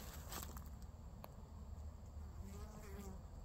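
Bees swarm around a single hive during a robbing attack, with fighting among them: a steady, close insect buzz drones throughout, with a few brief ticks and flicks over it.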